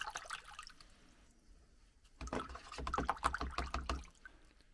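Water splashes and drips while blued steel parts are rinsed off, irregular close splatters and trickles that grow busier in the second half, fairly quiet.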